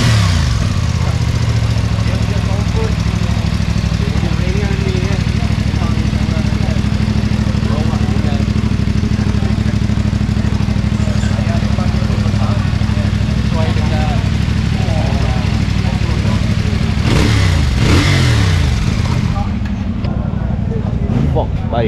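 An SVT 650R motorcycle engine running loud and close at a track day, idling with a deep throb and blipping revs near the end, while people talk over it.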